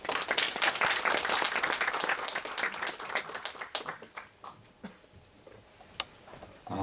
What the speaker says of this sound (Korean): 교수님을 큰 박수로 맞이하겠습니다